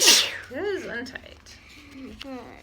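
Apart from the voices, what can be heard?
sneeze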